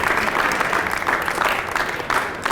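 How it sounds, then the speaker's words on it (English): An audience at a keynote speech claps steadily, a dense, sustained round of applause from a large crowd with no talking. "Let's stand up and give a round of applause."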